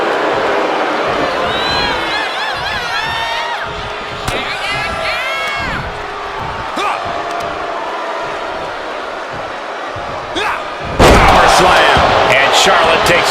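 A wrestling arena crowd cheers in the WWE 2K25 video game, a steady roaring wash under commentary, with a thumping slam and a louder surge of crowd noise near the end.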